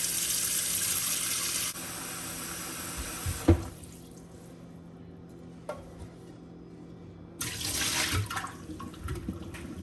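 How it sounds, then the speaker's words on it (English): Running water pours steadily from a tap into a pot for a couple of seconds, then a clunk and quieter trickling, before the flow surges again near the end. "first I'm gonna start by adding some water to my pot."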